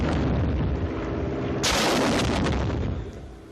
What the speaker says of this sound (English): And these rockets are fired the same, with one exception.